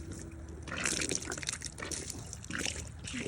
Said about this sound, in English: we just gotta wash this out and let it dry